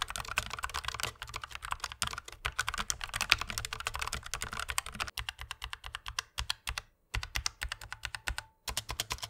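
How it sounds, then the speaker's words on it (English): Rapid, muted keystrokes on a Logitech MX Mechanical keyboard with quiet tactile switches, a soft irregular pattering with brief pauses between bursts of typing. "here is what the tactile quiet switches sound like when typing"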